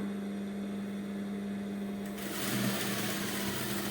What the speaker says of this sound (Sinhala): මේ විදිහට මහගෙන යනවා.